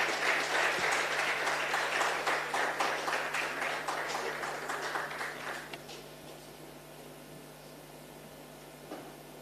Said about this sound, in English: Let's give Mr. Chisupa and Dr. Simusika a round of applause.